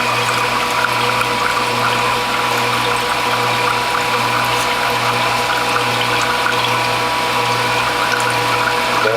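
Watermelon lime juice with turmeric and ginger overflows from a press bag on a juicer, giving a continuous close pouring and trickling wash under a low steady pump hum, with no talking.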